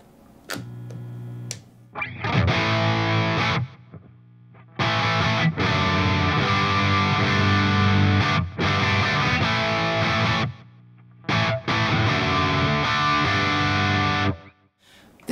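Electric guitar through a ZUTA GBG120 rackmount amp on its distortion channel, playing loud, thick, sustained chord riffs in several bursts separated by short pauses, with no talking.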